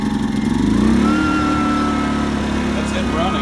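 A Pulsar 2000W inverter generator running just after a pull start, a steady close engine drone with a slight surge early on, a voice speaking briefly over it.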